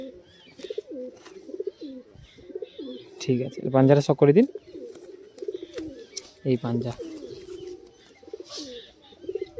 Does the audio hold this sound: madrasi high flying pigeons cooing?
yes